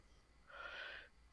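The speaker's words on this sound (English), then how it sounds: "I'm so sorry I'm yawning so much." A single soft yawn, a faint breathy exhale lasting about half a second, heard alone in a quiet room.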